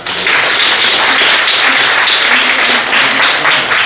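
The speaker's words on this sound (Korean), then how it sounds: "다시 한번 큰 박수 부탁드립니다" An audience in a hall claps after a team's presentation at a final-round competition event, a dense, loud, sustained burst of applause with many hands that swells and holds steady throughout.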